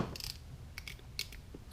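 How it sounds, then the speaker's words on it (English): Ratcheting screwdriver turned back and forth on an 8mm fitting while replacing the alternator on a 2007 Jeep Wrangler, giving a few faint, spaced clicks over quiet background. "you just tighten and then go back and forth"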